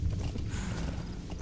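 Hooves of a galloping horse in Metal Gear Solid V: The Phantom Pain, a fast, steady thudding clip-clop close by over a dense, rumbling backdrop.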